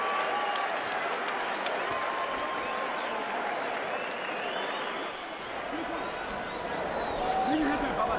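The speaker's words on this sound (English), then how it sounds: "The crowd into it." Boxing arena crowd at a heavyweight fight keeps up steady applause and cheering throughout, a dense wash of clapping and voices with brief dips, while a commentator's voice runs over it.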